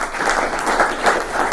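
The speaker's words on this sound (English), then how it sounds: "You don't need to clap." An audience at a political talk on Brexit and Ireland applauds, producing dense, steady clapping from a full crowd, loud and continuous without a break.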